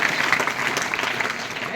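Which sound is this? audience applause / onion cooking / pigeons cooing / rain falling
audience applause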